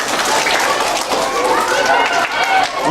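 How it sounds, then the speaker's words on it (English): A school assembly crowd of children clapping, a dense burst of applause that stays loud and steady for a few seconds, with voices mixed in. "Give 2 claps for Mr."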